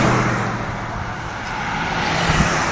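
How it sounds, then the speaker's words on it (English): Road traffic crawling along River Road, a broad steady roar of car engines and tyre noise with a faint low hum, fairly near and continuous. "traffic is crawling"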